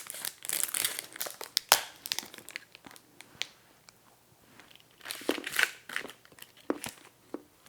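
Crinkly chocolate bar packaging for semi-sweet coconut sugar chocolate is torn and crumpled close up, in bursts of sharp rustling and tearing with short quiet gaps between them.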